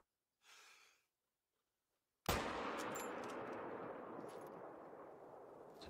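A rifle shot at a blackbuck in theHunter: Call of the Wild cracks out once, loud and sudden after a soft breath and silence, then rolls away in a long echoing tail.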